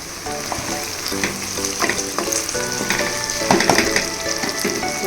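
Curry leaves, coriander and mint frying in a pan for potato biryani, a loud close sizzle with repeated stirring and clinking of a spoon against the pan, steady throughout with no voices.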